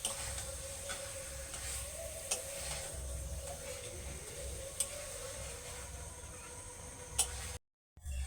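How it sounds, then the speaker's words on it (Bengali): Fried pointed gourd being stirred into a sizzling spice mix in a pan, a faint steady sizzle with sparse light ticks and scrapes of the spoon, quiet and without talk. "মশলার সাথে আমি পটলগুলোকে কিছুক্ষণ একটু নাড়াচাড়া করে নিয়েছি"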